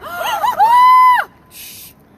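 A person lets out a loud, high, sustained scream with a rising, wavering onset, followed by a brief quieter noisy burst.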